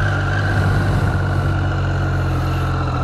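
A 2018 Triumph Street Triple R motorcycle engine runs at a steady, loud, close idle with a continuous low throb and no talk over it.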